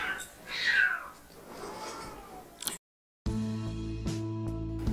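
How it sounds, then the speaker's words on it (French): Cats fighting indoors: a rising yowl and hissing squalls at moderate distance come first, then a brief dropout, and a steady hum with clicks follows. "arrêtez de vous battre les chats"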